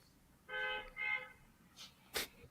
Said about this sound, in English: You could literally hear the cars honking in your background.